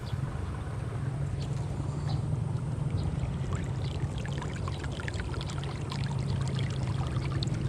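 Irrigation water arriving in a kangkong field, a steady broad rushing and gurgling flow heard close and fairly loud, continuous for the whole stretch with no talk.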